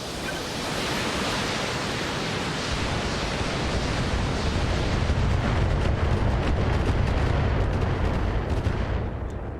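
Mech weapons firing in BattleTech, a dense, continuous roar of heavy fire and blasts that stays loud and unbroken for the whole stretch, with a deep rumble building underneath.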